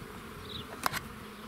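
Honeybees at an open Buckfast hive in an apiary, a steady faint insect hum throughout with one brief closer buzz passing by partway through.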